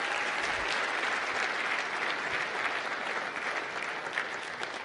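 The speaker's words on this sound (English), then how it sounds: "Another round of applause for Poppy." Steady, dense applause from a large keynote audience at an HP Big Data 2015 conference, a continuous wash of clapping holding at an even level throughout without any talk.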